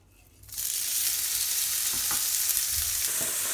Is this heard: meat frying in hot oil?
yes